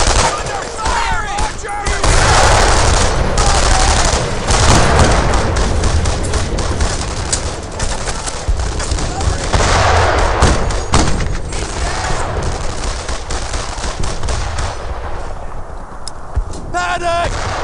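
Gunfire from the video game Brothers in Arms: Earned in Blood, dense continuous bursts of rifle and machine-gun shots with heavy booms, loud and close, while soldiers shout over the battle.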